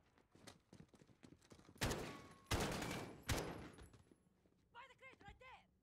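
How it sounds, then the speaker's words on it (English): Video-game gunfire: several loud, sharp bursts of shots ring out over a busy scene, with scattered impacts and effects before and after, and a synthetic tonal sound near the end. "Point and shoot until they fall."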